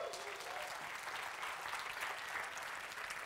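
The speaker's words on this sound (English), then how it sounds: "Give Sam a round of applause." Audience applause fills a conference room, a dense, steady wash of clapping from many hands at even loudness, with no voices over it.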